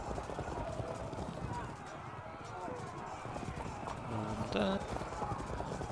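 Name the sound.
cavalry horse hooves in Field of Glory 2 video game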